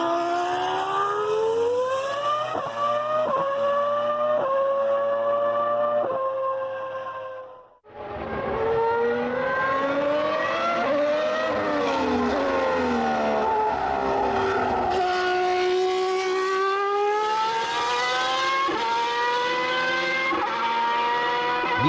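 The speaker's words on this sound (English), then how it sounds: "You hear how quickly those downshifts?" A high-pitched V10 race car engine screams continuously, revving up and down through quick downshifts, with a brief drop in sound midway before climbing again.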